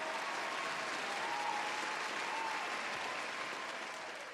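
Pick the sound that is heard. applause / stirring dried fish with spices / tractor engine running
applause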